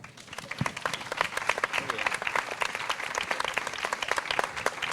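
An audience at a Spanish cultural lecture bursts into steady applause, many hands clapping in a brisk, dense patter at close range, with faint voices underneath.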